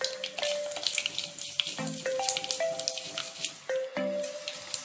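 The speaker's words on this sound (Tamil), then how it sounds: "கடுகு உளுந்து நல்லா பொரிஞ்சிடுச்சு" Mustard seeds and urad dal splutter and pop in hot oil for a Tamil village-style vendhaya kulambu, with sharp crackles and sizzling pops over a quiet background and no talk.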